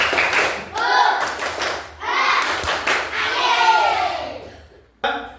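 A school class doing a rhythmic clapping chant, tepuk semangat, during an Islamic studies lesson: bursts of patterned claps with children's voices chanting along, close and lively, with brief pauses between phrases.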